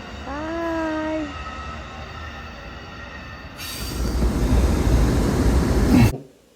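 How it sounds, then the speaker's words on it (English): A passenger train bound for Los Angeles passes near an old but still operating oil field. Wheel squeal comes first with sustained tonal whines, then a loud rumbling roar of the railcars grows and cuts off abruptly. "the train sped by an old but operating oil field."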